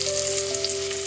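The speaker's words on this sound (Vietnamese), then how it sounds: "bỏ tỏi cái xào sơ cái nấm gươm trước ha." Garlic and mushrooms stir-frying in a pan for a vegetarian braise, a loud bright continuous sizzle close up over a steady tonal hum, with no talking.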